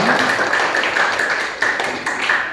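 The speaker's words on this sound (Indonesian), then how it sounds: "tepuk tangan buat semua" Group applause at the close of an Indonesian civic-education class session, a dense steady patter of many hands clapping together for about two and a half seconds at moderate loudness.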